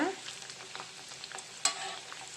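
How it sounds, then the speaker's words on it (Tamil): Small rice and potato bondas deep-frying in hot oil, a steady soft sizzle with light crackles and one sharper pop, close and alone. "வடை ப்ரௌன் ஆகிறதுக்கு கொஞ்சம் டைம் ஆகும் அதனால் பொறுமையாக ஃப்ரை பண்ணி எடுத்துக்கலாம்"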